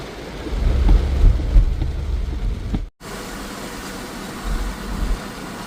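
Heavy rain pours steadily while thunder rumbles low and long, with a brief break in the sound midway before the downpour continues.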